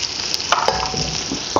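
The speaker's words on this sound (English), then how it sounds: "Now your oil is on the fire, and then you're just going to add your chopped onions." Chopped onions hitting hot oil, frying with a loud, continuous sizzle and a few sharp scraping clicks from stirring, close and without any voice.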